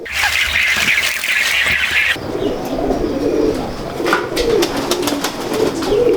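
Dab pigeons coo steadily at close range, with soft repeated calls and some bird chirps, loud and clear against a faint background.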